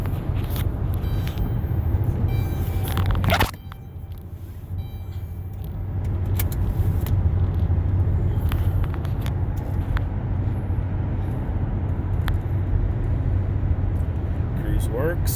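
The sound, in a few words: 2010 Grand Caravan minivan driving on cruise control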